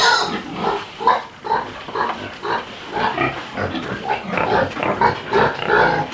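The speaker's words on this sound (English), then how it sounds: "I enjoy pigs and being around them." Pigs, including sows near a boar in a pen, grunt and oink in a continuous, close chorus of rhythmic snorts and low grunts, loud and without talk.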